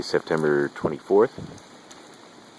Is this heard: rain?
yes